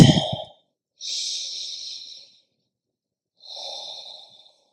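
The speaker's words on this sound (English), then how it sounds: "Regular breathing." Slow, steady breathing close to the mic: a few long airy breaths separated by short silences, with a brief soft rustle at the start.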